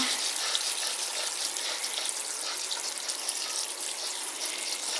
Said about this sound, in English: Rinse them with cool water so they'll stop cooking.